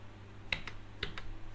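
A few sparse, quiet clicks of a computer keyboard as a check number is typed, three light keystrokes spaced about half a second apart over a faint steady hum.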